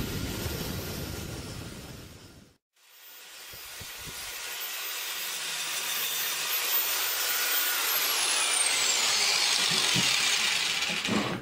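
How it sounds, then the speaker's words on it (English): Belt sander shaping the wooden cigar box guitar body, a loud whining hiss that cuts out briefly, then spins back up and builds into a steady abrasive grinding rush. "that belt sander comes in handy"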